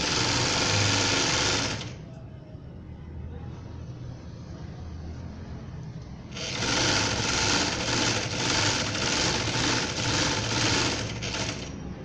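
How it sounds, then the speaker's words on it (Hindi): A sewing machine stitches the sides of the lower frill on an off-white baby frock, running in loud, fast bursts that pause briefly near the two-second mark before resuming steadily to the end. "अब बेबी फ्रॉक की हम फ्रिल को नीचे वाली को साइडों से सिलाई करेंगे ताकि राउंड शेप"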